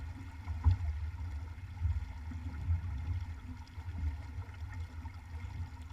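A sailing boat moves along Coniston Water with a soft, steady low wash and faint lapping of water against the hull, quiet and continuous with no voices.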